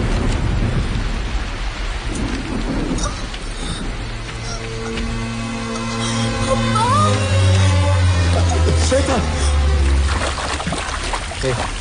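Heavy monsoon downpour over flooded Chennai streets with rolling thunder, a dense steady hiss of rain under deep rumbles, mixed with tonal music-like sounds swelling in the middle.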